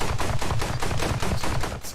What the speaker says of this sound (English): Gunfire volume, there it is. Let's turn that down a bit.